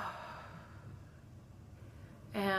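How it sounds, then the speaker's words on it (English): One long, soft breath is drawn in and let out slowly during a calm home tapping routine. It is quiet and close, and a brief brighter sound comes in at the very end. "And then we take a deep breath."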